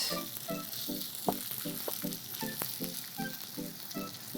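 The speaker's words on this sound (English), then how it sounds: "I just want a little bit of oil in a hot pan, and then you just kind of pile up a few spoonfuls in the middle there" Potato pancake batter sizzles in a little oil in a hot pan, a steady close fry with a gently pulsing crackle throughout and a few sharper spits, with no voices.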